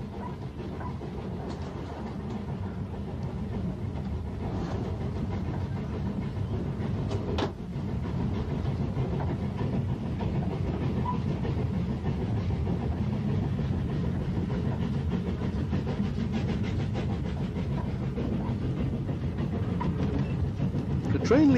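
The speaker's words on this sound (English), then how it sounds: "Our train is working hard as it approaches the line's summit." A train on a Welsh moorland line labours up the climb toward the summit near Craig-y-nos Pentwyll, a continuous heavy rumble with rhythmic wheel clatter and a hiss near the end.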